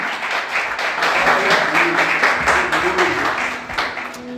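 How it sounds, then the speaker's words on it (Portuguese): Worship congregation loudly applauds the name of the Lord during an evening church service, sustained hand clapping throughout with voices and cheers blended underneath. "Você consegue dar um glória a Deus e aplaudir o nome do Senhor bem forte?"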